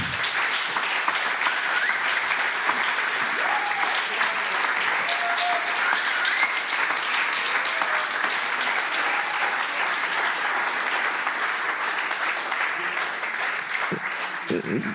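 Sustained applause from a large conference audience, steady and dense throughout, with no break in the clapping.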